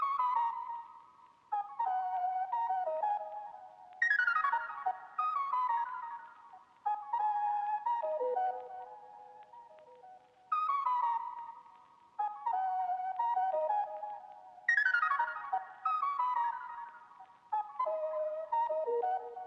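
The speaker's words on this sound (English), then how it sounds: "So I found this lead sound and I just made like a counter melody that sounds like this." Synth lead playing a counter melody for a soulful sample-based beat, with clear plucky pitched phrases that repeat in bars with short gaps between them, heard alone and without talking.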